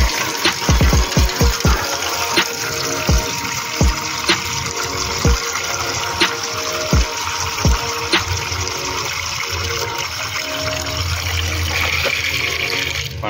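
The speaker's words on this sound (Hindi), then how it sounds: "पानी भर चुका है" Steady running water pours continuously into a container, with a series of dull knocks and thumps in the first half.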